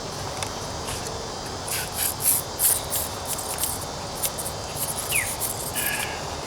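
Several short hissing bursts from a spray paint can, puffed in quick succession while painting a 1998 Toyota Corolla's trunk and rear bumper, over a steady background of chirping insects.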